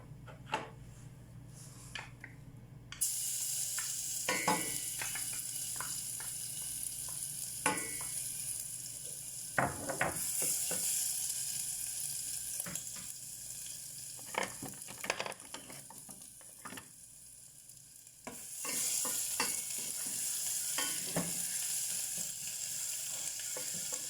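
Oil sizzles steadily as blended tomato fries in a pan, with scattered clicks and scrapes of stirring and a surge of hissing partway through.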